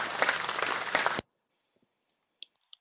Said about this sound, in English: Can everybody clap their hands and be happy?